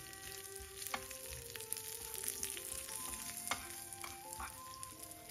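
Spices tempering in hot oil for an Indian home-cooked dish give a soft, continuous sizzle close by. Scattered clicks and taps of stirring against the pan run through it, and no voice is heard.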